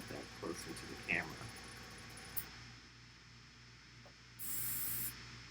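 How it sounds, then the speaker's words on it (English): An airbrush sprays a light wash onto a Donatello miniature: one steady, loud hissing burst near the end, preceded by quiet room noise, a low hum and a few faint handling sounds. "So I'm basically going to spray, let it dry for a minute, spray it again"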